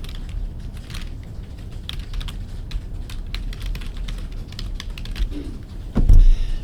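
Rapid clicking keystrokes on a computer keyboard while entering text into a spreadsheet, an irregular run of taps close up, ending in a heavier thump.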